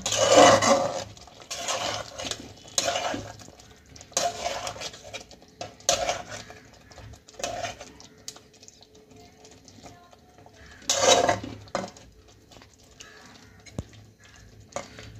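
Yogurt chicken stirred with spices in a cooking pot: intermittent scraping and clinks of a utensil against the pot, in bursts separated by quieter pauses, with faint background sound.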